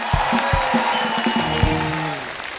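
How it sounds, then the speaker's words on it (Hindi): Loud, sustained clapping from a studio audience on a comedy talk show, with a few sharp low thumps and a tonal musical swell underneath, brief and continuous. "एक बार फिर से जोरदार तालियां हो जाएं।"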